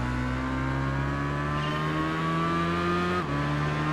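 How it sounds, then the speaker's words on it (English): An Aprilia RSV 1000R Factory motorcycle in the racing game Tourist Trophy holds a steady engine drone with rising pitch, then a quick shift-like dip before the rev continues, loud and close. "the machine you will be using in this test is an Aprilia RSV 1000R factory"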